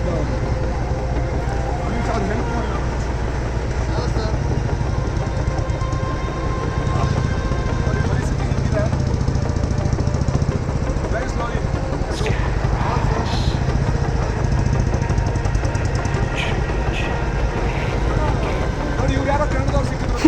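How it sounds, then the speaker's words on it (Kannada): Indian Army vehicles drive along a road in Ladakh, their engines a continuous low rumble mixed with idling and passing motors, while someone talks over them throughout. "ಇವರೆಲ್ಲ ಗಾಡಿ ಓಡಿಸ್ತಿದ್ದಾರೆ ನೋಡಿ"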